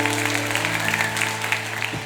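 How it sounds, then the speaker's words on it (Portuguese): A church congregation at a Pentecost vigil applauds during a sermon, a moderate patter of clapping over steady organ-like sustained tones. "Pode aplaudir, pode aplaudir, pode aplaudir."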